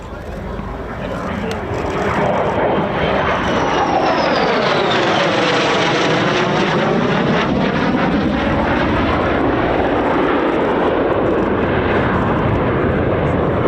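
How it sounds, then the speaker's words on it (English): An F-35B fighter jet with a Pratt & Whitney F135 turbofan passes at an air show, a loud, sustained jet roar swelling in the first two seconds and then holding steady, with sweeping tonal shifts as it moves past. "The engine of the F-35B, a Pratt & Whitney"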